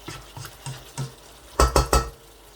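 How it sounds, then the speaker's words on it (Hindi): Mutton is stirred and fried in yogurt and butter in a kadahi, with soft scraping strokes followed by three louder clattering knocks of the spoon against the pan, all close up with no talking. "4-5 मिनट के लिए मैं भून लूँगा दही में"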